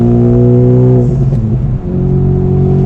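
A manual car's engine revs loudly up past 3000 RPM, a dense close-up drone that dips briefly during the shift into second gear, then settles back into a steady pull.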